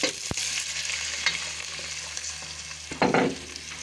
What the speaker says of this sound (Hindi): अभी भुनाई करेंगे अदरक लहसुन और जो साबुत धनिया मैंने इसमें डाला है